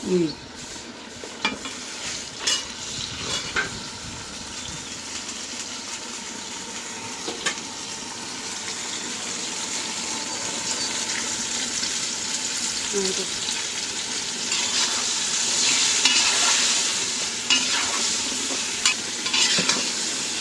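Pointed gourd (potol) frying in oil in a pan, stirred now and then: a steady close sizzle with scraping stirs scattered through, growing a little louder toward the end, with brief speech at times.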